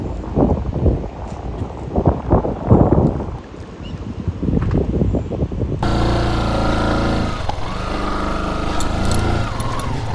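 A river boat carrying a motorbike crosses in Karbi Anglong: gusty wind buffets the microphone at first, then a steady motor drone runs continuously at close range.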